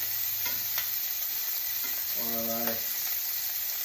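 Boneless pork sirloin chops fry in a pan with butter, giving a steady bright sizzle throughout, with a few utensil scrapes and a short hum-like tone partway through.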